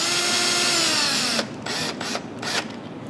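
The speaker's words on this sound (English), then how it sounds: "Just don't over tighten them with the drill." A power drill whirs steadily, then stutters in short bursts as it drives a bolt tight while assembling a table base, close and loud.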